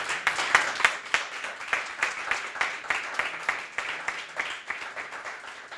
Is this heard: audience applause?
yes